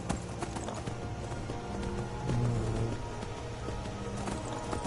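Horse hooves galloping in Skyrim, a steady rapid clip-clop running throughout over a dense game soundscape with music, close and moderately loud.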